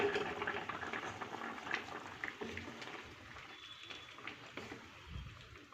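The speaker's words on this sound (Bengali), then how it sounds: "মাছটা দিয়ে কিছুক্ষণ ফুটতে দেব।" Rohu fish curry with potatoes and drumsticks bubbles gently in a pot, a soft, faint simmering fizz with scattered small pops that fades slightly over several seconds, no voices.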